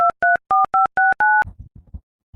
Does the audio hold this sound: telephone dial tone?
yes